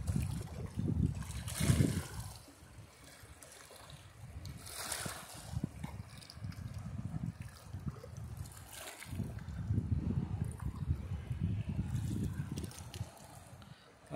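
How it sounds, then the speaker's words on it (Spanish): Choppy lake water at a fishing spot slaps and splashes against rocks in uneven surging waves, with steady wind rumble underneath and no clear voices. "Ahí se puede ver cómo está de agitada el agua."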